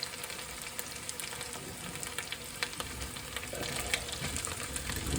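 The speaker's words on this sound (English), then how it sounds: "next thing I'm going to hull in there, a couple of small onions. Get that into the pan." Small onions frying in a pan for a curry, with a steady broadband sizzle and crackle that grows slightly louder toward the end, close and continuous with no talking.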